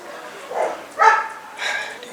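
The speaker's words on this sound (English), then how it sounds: "Damn dogs." Dogs bark in three muffled bursts spaced about half a second apart, moderately distant, on an outdoor hike over steady background noise.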